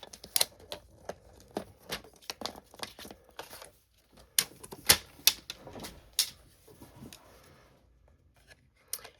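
Card stock being cut on a paper trimmer, a series of sharp close clicks and short slicing swipes in irregular bursts, fairly quiet, with no talk.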